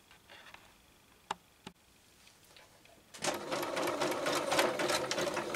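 A sewing machine stitches a zigzag stitch, starting after a few faint clicks with a rapid, steady mechanical chatter at moderate volume that continues to the end.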